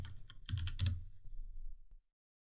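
Rapid, uneven keystrokes on a computer keyboard, close and fairly loud, a couple of seconds of typing that stops abruptly into silence.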